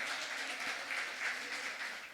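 Audience applause for two women invited onto a stage at a feminism talk, a steady wash of many hands clapping at moderate distance, even and sustained throughout.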